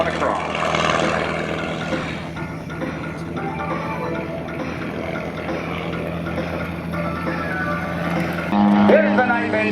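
Aerobatic airplane flying a stick-and-rudder manoeuvre at the 2014 Houston air show, a steady engine drone under continuous announcer commentary, rising slightly near the end.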